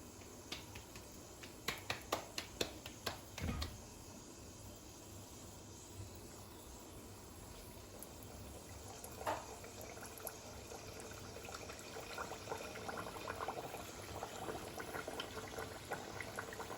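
Bedmi puris sizzling in hot oil over a high flame, a steady low bubbling hiss that thickens as more dough goes in, preceded by a few sharp clicks and taps.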